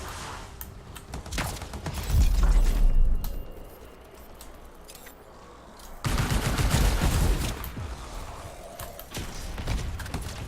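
Video game gunfire in Bastion, bursts of rapid shots swelling loud around the early and middle parts, separated by quieter stretches of ambient game sound.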